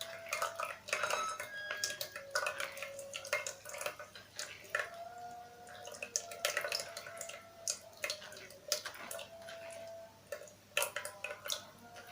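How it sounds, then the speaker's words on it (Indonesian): Herbal jamu of rice and kencur with turmeric is strained in a kitchen, with light drips, trickles and clinks of utensils against a bowl or strainer over a steady faint hum, all close and soft. "Kita saring dulu."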